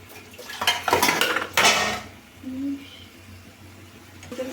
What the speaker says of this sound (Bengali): এই পাশে একটা কড়াই কচু শাকটা বসিয়ে দেবো